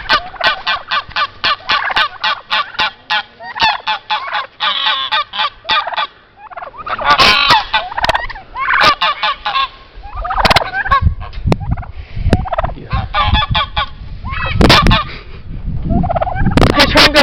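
A turkey gobbles loudly and close in a farmyard, with rapid repeated bursts of gobbling calls and other fowl honking and calling in between.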